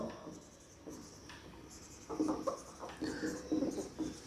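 Writing on a board during an accounting lesson: soft, close scratchy strokes come in short bursts, with faint room noise and a teacher speaking quietly.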